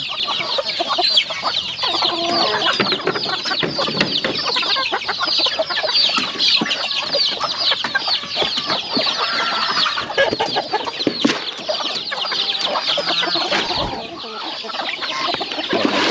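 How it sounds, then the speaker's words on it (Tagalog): A flock of chickens clucking busily and continuously nearby, dense overlapping calls with no talking. "Meron tayong dalawang manok dito."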